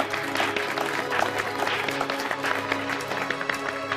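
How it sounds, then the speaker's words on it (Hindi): Office staff applaud in a fashion house workplace, a steady round of clapping from a small group lasting several seconds at moderate, even loudness with no speech over it. "तालियां।"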